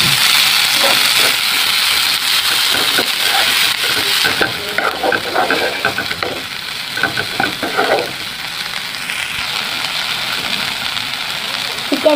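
Kolmou greens hit a pan of hot mustard oil with onion and garlic, giving a loud, continuous sizzle broken by scraping stirs.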